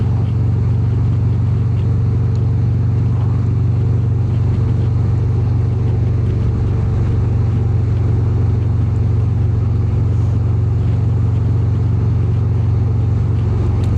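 A motorcycle cruises in fifth gear along a straight Texas road, its engine a loud, constant low drone blended with steady wind rush and no change in pace.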